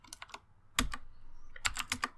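Typing a terminal command on an Ubuntu computer keyboard, heard as three short bursts of quick, close keystrokes separated by brief pauses.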